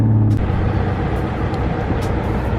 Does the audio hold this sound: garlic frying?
no